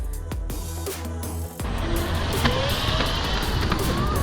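Enertion electric skateboard accelerating: a steady broadband motor and wheel roar rises after a brief dip and holds loud and close, with a faint whine, no talk.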